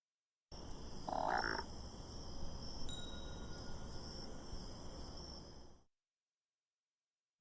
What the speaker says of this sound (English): At the Radu grave, we heard a ribbit and then a bell.